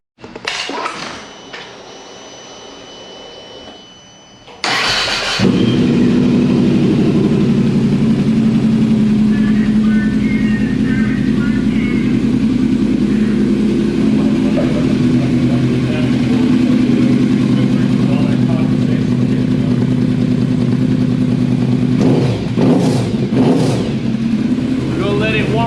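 A 2019 Yamaha VMAX motorcycle engine starts after a brief lead-in and then runs loud and steady with revving throughout, close by, with a few faint voices under the engine.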